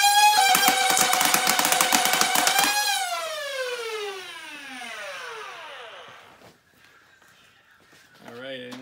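A modded Nerf Hyperfire blaster with Fang Revamp motors and the original belt-driven drive, running on a 3S battery and emptying a 25-round drum: a loud, rapid burst of motor whine and firing clatter for about three seconds, then the motors spin down with a falling pitch.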